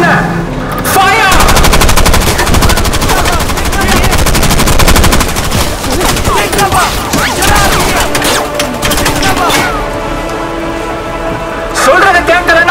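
Loud, sustained machine gun fire in an action film scene at sea, dense rapid bursts rattling for several seconds and then easing, with a short burst again near the end.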